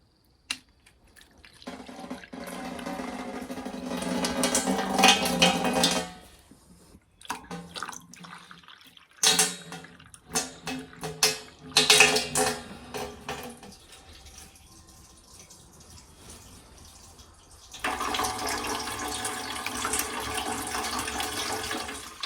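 Maple sap poured slowly from a container through a filter, giving a soft continuous splashing and trickling with pauses and a few knocks of handling, close by.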